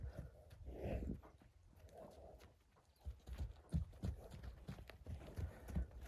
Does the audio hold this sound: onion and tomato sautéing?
no